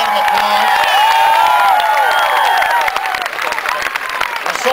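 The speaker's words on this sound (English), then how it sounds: "Give Ellen a big round of applause." A political rally crowd in Manchester, New Hampshire claps and cheers loudly and close, with whoops and shouts over dense applause that eases slightly toward the end.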